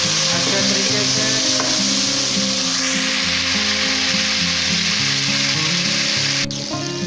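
Chopped tomatoes are stirred into golden fried onions for a carrot, pea and potato mixed vegetable dish, giving a loud, steady, close sizzle with stirring throughout and a tonal musical bed underneath.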